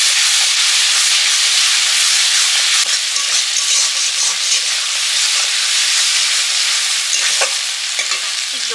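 Ground spice paste of cumin, coriander and dried chilli sizzles loudly in a hot pan as water is added, a continuous hissing fry with occasional stirring scrapes, close and steady throughout.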